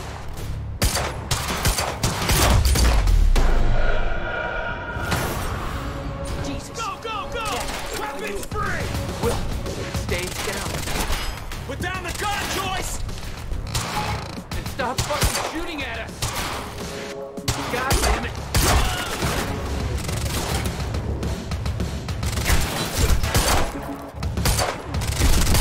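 Rapid gunfire in the action game Quantum Break crackles in dense bursts and single sharp cracks, with crashes and impacts mixed in, loud and repeated throughout while characters shout and talk over it.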